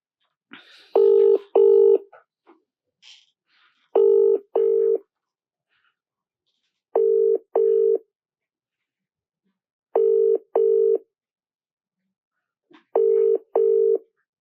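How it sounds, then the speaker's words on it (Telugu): An outgoing phone call's ringback tone sounds as loud, clean paired beeps, double pulses repeating at regular intervals with silence between. "సో మనకి ఫోన్ రింగ్ అవుతుంది"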